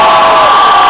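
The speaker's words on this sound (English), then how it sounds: "A big round of applause for the community college system." Loud crowd cheering and applause at a California community college and state university gathering, a steady roar of whoops and shouts in a brief burst.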